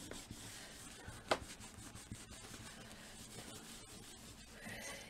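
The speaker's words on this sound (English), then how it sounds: "So I'm just going to fold that in like that and then rub off the excess." Excess decoupage paper being rubbed off a small mixed media plaque with a bird design, a faint, steady scratchy rubbing with one sharper scrape partway through.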